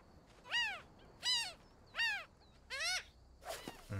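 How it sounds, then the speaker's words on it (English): A Mediterranean gull in the wildlife game Alba gives four evenly spaced, harsh, drawn-out calls with a falling pitch, clear and fairly close. A softer, noisier sound and a low thump follow at the end. "Mediterranean gull."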